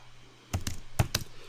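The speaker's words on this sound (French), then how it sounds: "Touche retour chariot sur le clavier." A short burst of clicky keystrokes, three or four firm taps including the return key on a computer keyboard, close by in a quiet room.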